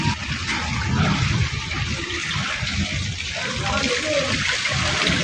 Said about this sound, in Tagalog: Guys, tingnan mo, baha dito guys.